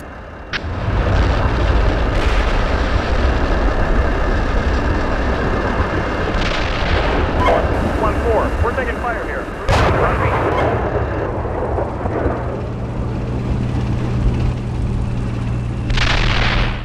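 Heavy tank cannon fire from the Steel Beasts Pro PE simulator, frag rounds booming in deep loud blasts over a constant rumbling engine drone, with a sharp crack near the middle and a sustained low hum afterward.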